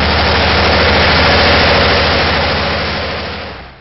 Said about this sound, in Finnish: Meren pinnalla kiitää sumupilvi, jonka keskellä kuuluu sellainen moottorin jylinä